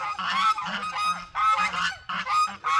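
Several geese honk loudly and repeatedly, close by, in overlapping bursts.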